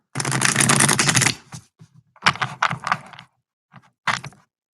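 A deck of worn tarot reading cards being shuffled by hand: a long riffling burst, then several shorter crisp bursts and taps separated by silence, close and fairly quiet.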